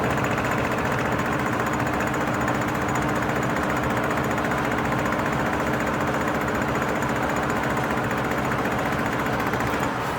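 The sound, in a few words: fuel pump running on 1966 Ford Mustang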